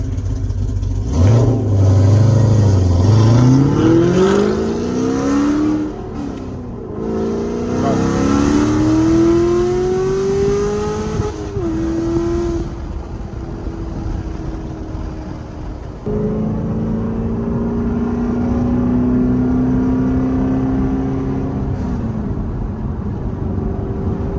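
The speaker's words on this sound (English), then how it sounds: "So in the second gear you can floor, and once you shift in third, then release the accelerator." Car engine roaring under full throttle up through the gears, loud and close, each gear change marked by the pitch dropping back and climbing again, then settling into a steadier drone.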